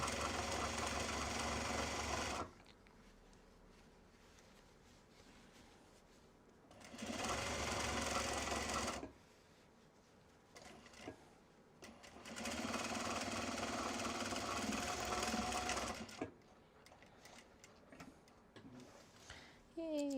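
A sewing machine stitches the seam of a Japanese fabric belt bag in three loud, steady runs of rapid ticking hum. Quieter pauses fall between the runs.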